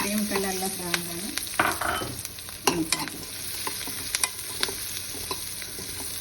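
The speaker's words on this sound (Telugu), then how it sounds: "ఈ మిగిలిన నూనెలో ఉల్లిపాయలు వేయించుకుందామండి, పచ్చివాసన పోయేదాకా." Onions fry in leftover oil in a pan, a steady crackling sizzle broken by frequent spatula scrapes and stirring clatter, close and alone.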